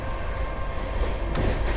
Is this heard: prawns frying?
no